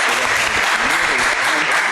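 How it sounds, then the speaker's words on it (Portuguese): Dense, steady applause from a municipal council session audience honoring the running group Amigas que Correm, a continuous wash of many hands clapping close by for a short stretch with no voices standing out. "Gostaria de pedir uma salva de palmas para o grupo Amigas que Correm."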